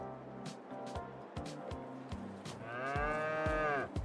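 Dairy cows on a farm let out a long, loud moo over steady rhythmic clanking and scraping of barn equipment.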